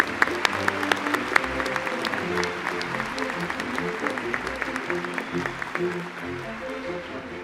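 A graduation audience at Imperial College Business School claps steadily for several seconds, a dense patter of hands in a large room, with a voice faintly heard underneath.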